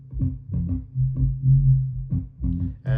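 Low-end bass line from a remix, a simple MIDI-programmed pattern: deep sustained bass notes pulsing in short phrases, played alone without voices.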